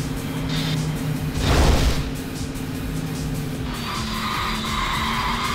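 A taxi racing at full throttle in Yakuza 5 Remastered, with a steady loud engine drone, a brief skidding screech near the start, and the engine pitch shifting upward toward the end.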